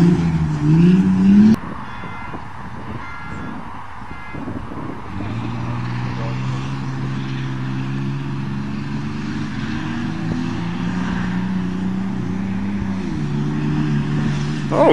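A Ford Ranger, a Dodge Dakota and a Ford Bronco race, their engines producing a loud, steady droning whine. The engine note shifts abruptly early on, then settles into a sustained, layered hum.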